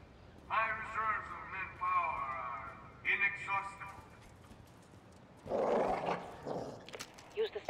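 A dog barks and whines in bursts in the Call of Duty Modern Warfare campaign: a long run of yelps, a shorter burst, then a louder final flurry, heard over game ambience.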